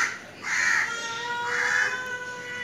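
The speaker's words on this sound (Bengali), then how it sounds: "ওই তো ওখানে কাক, কা কা করছে" A crow caws outdoors, giving two drawn-out, harsh calls about a second apart at moderate distance over a quiet background.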